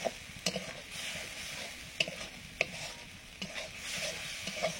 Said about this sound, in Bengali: দিয়ে দেবো মশলাটা ভালো করে একটু কষে নেওয়ার জন্য